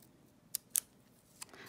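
Scissors snip lengthwise through material in a few sharp, close clicks, with two quick cuts followed by a pause and then one more snip in a quiet room.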